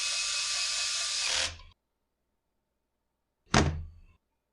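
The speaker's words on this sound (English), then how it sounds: "we're putting the screws into the anti-vibe mount" Power driver running screws into the anti-vibration mount of a Husqvarna 572XP chainsaw: one sustained whirring burst close by, a gap of silence, then a short sharp second burst.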